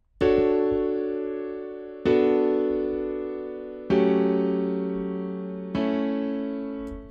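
Four ringing keyboard chords struck one after another at an even, unhurried pace, the progression including a minor ninth chord, each held and slowly fading, with no voice over them.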